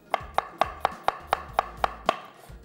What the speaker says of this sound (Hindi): सबसे पहले प्याज को करेंगे स्लाइस।